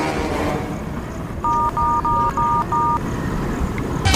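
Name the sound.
phone number being dialed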